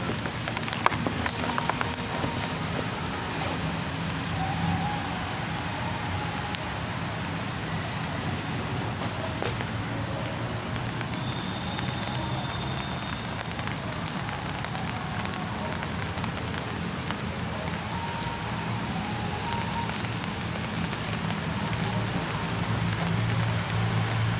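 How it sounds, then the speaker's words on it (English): Steady rain falls continuously for the whole stretch, an even hiss of drops on surfaces close by without any clear voices over it. "It's still raining."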